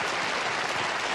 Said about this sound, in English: Did somebody press the applause sign?